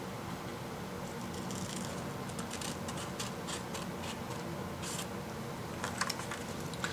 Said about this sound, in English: And with the help of scissors, now we can just cut from here to till here.